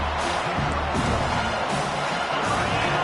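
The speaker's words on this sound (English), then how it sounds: "Decibels rising as the crowd gets behind this defense on third down" A football stadium crowd roars in a steady, swelling wall of cheering behind the defense on third down, with an announcer's voice running over the noise.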